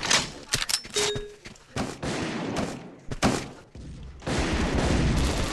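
Bursts of machine gun fire in a 3v3 online shooter match, loud, rapid rattling volleys broken by thuds and short gaps, with a dense stretch of sustained firing toward the end and voices talking over the action.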